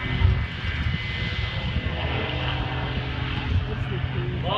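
Stunt airplane engine roaring at an outdoor airshow, a steady loud drone that holds throughout, with an announcer's voice and crowd noise mixed in.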